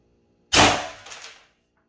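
An HDR 68 launcher fitted with a tuning barrel fires a single sharp, loud shot close by, a sudden burst that decays over about a second with a brief rattle in the tail.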